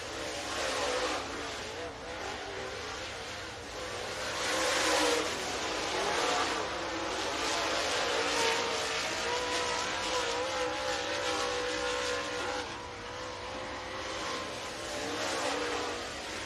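Dirt late model race cars in a Super Dirt Series qualifying session at Talladega Short Track in Talladega, Alabama roar around the track, engine drone swelling and fading as cars pass at a distance.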